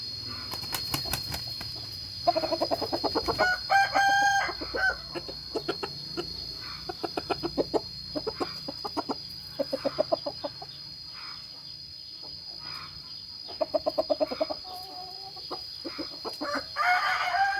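A four-month-old young rooster crows in short, cracking, unfinished bursts, repeated several times at close range over a steady high insect-like whine, with scattered clucks and wing flaps between.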